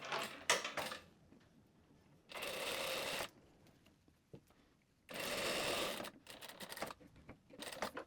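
A sewing machine topstitching a pair of shorts, running in two steady bursts of rapid, even stitching, each about a second long, with light handling clicks and fabric shifting between them, close and fairly quiet.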